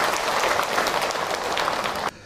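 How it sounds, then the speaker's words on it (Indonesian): An audience applauds at a religious sermon, a dense burst of clapping for about two seconds that cuts off abruptly near the end. "Tepuk tangan atuh buat bunda."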